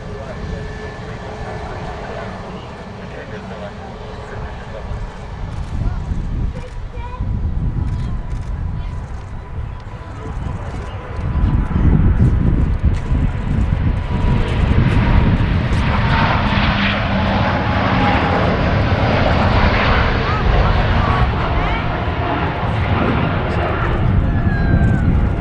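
Airliner departing Manchester Airport, a loud broad jet engine roar swelling midway and holding steady as it climbs away, with people talking over the noise.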